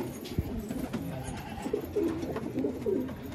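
Pigeons of a home-bred crested Lalban Khairi breed in Rohtak cooing softly in repeated low murmuring calls, fairly close, over a steady background hum.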